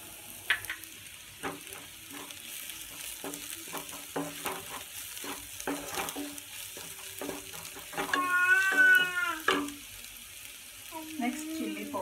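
Sliced onions sizzle and fry in a pan with turmeric for a bitter gourd fry, while a spoon stirs and scrapes in repeated close strokes. The frying keeps up under the clatter.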